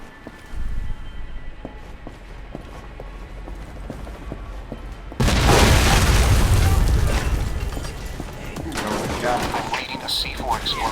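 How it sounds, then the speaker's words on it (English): A C4 blast and gunfire in the video game Alpha Protocol, with a sudden loud explosion midway followed by sustained rumbling and crackling shots, over earlier scattered clicks and talk. "I'm reading a C4 explosion in your area. The PCI are attacking the building."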